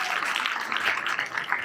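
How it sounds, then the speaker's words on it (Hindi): An audience claps steadily at a live stage event, a dense wash of hand claps with no break through the short stretch, moderately loud and sustained. "एक बार जोरदार तालियां हो जाए"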